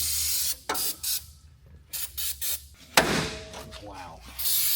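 Short bursts of aerosol lubricant sprayed onto a part of a Camaro, several quick hisses in a choppy rhythm, close and fairly loud, followed by a longer spray near the end.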